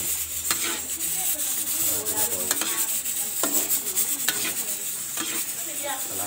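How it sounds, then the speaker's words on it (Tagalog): A utensil stirs through bubbling sweet and sour sauce for tilapia in a pan, rhythmic scraping strokes repeating over a steady sizzle, close and fairly loud. "Pag kumukulo na kung ganyan, haluin lang natin."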